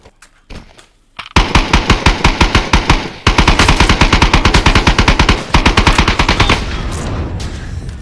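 Automatic gunfire in the VR shooter Contractors Exfil Zone: long, loud, rapid bursts of shots close by, broken by brief pauses, with no one speaking.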